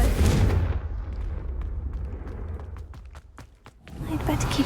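A Confringo fire spell in Hogwarts Legacy goes off as a loud blast at the start, then rumbles away into crackling and sharp pops, with talk around it.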